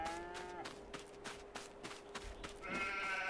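Sheep in the farming game Farming Simulator 22 bleat several times in short, wavering calls, close and clear, with a steady hum underneath.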